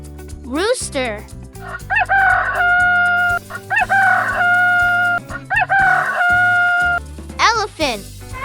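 A rooster crowing, three long drawn-out cock-a-doodle-doo calls in sequence, loud and near, over a light cheerful children's music backing with brief voiced sounds at the start and end.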